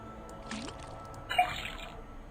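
Water running from a faucet in the detective game Detective Grimoire, a soft splashing trickle with a brief gurgling swell, then a louder, fuller gush of flow that fades out, fairly quiet.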